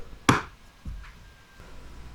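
Metal clips on a Porsche 911 air filter housing snap into place with one sharp, close click, then a softer second knock a moment later in a quiet space.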